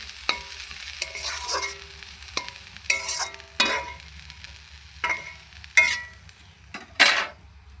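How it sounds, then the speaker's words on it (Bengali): Soaked flattened rice (chira poha) is stirred in a pan over a low, steady sizzle, with repeated scrapes and clinks of the spoon against the metal at irregular intervals. Nobody speaks. "এই যে এটা রান্না হচ্ছে।"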